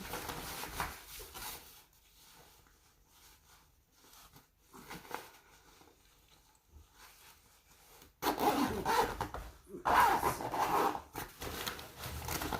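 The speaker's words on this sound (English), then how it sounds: "zip that back up." The fabric zipper on a Tutti Bambini Momi stroller is worked during unpacking. Quiet rubbing and handling come first, then a louder, close zip runs through the last few seconds.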